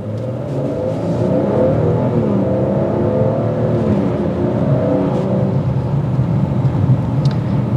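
A 2022 Maserati Quattroporte pulls away in sport mode, its engine note rising into a strong, loud sustained acceleration heard from inside the car, with no one speaking.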